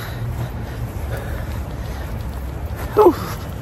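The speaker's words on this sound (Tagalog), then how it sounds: "Tapos may hangin pa." Wind blows across an empty park on a cold, dark night as a steady low buffeting rumble against the microphone. A brief faint vocal sound rises near the end.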